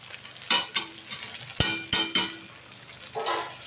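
Mutton kosha being sautéed with ghee in a pan: a metal spatula scrapes and clinks against the pan in several separate strokes over a soft, low sizzle, with no voices.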